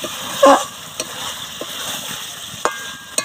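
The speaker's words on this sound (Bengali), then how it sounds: "ভালো করে আরও একবার নাড়াচাড়া করে দেবো।" Chicken kosha with chopped coriander and garam masala stirred in a pan, quiet sizzling under several distinct spoon clanks and scrapes against the vessel, close and without talk.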